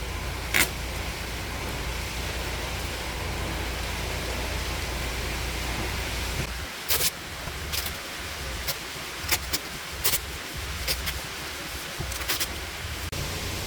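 Steady rain falls outdoors in a residential neighborhood, a soft continuous hiss with scattered sharp taps and clinks in the second half as drops hit nearby surfaces.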